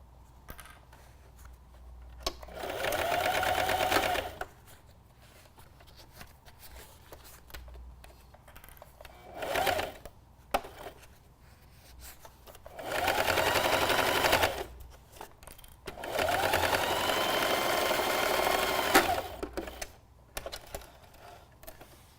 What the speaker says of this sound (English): So you work your way around, sew all of your box corners.